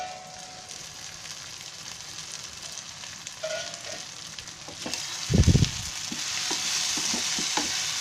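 Cooked tomato masala for shahi mushroom masala sautéing in a pan, a steady soft sizzle with scattered scrapes and clicks of stirring and one louder thump partway through.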